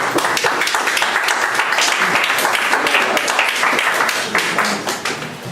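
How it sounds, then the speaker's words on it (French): Audience applause for performers at a French live show, a dense steady wash of many hands clapping that stays loud throughout and tapers slightly at the end, with faint voices mixed in. "On les applaudit. Bravo."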